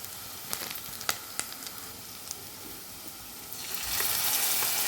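Ginger garlic paste fries in a pan for egg fried rice, giving a soft sizzle broken by a few sharp clicks of stirring, then a louder, brighter hiss swelling near the end.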